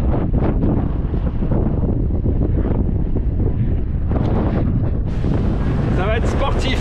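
Loud, buffeting wind roars across the microphone throughout, with rushing water and creaking from a boat sailing on a broad reach between Barbuda and Guadeloupe; no clear voices.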